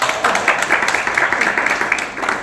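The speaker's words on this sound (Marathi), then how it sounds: "टाळ्या वाजल्या" Audience applause at a motivational speech, steady crowd clapping filling the room at moderate loudness for a few seconds.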